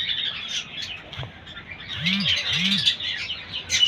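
Small budgerigars chirp in a busy chorus of high, scratchy twittering, with a few lower squawk-like calls standing out near the middle.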